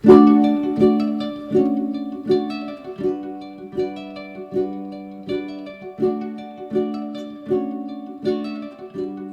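Plucked ukulele strings ring out in a steady fingerstyle chord pattern, bright and close, each chord decaying before the next, played alone with no voices.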